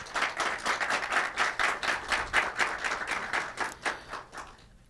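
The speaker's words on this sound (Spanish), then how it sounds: "Un aplauso para ellos, por favor." A small group claps at a steady pace for several seconds, fairly soft and close, then fades out.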